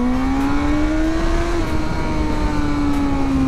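A Kawasaki motorcycle pulls hard on the road, its engine note climbing steadily and then shifting to a lower pitch, loud and close over strong wind rush.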